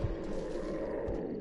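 Mountain lion roar in the video game Red Dead Redemption, a low growling roar with a deep rumbling bed, faint and brief with a heavier low burst at the start and another near the end.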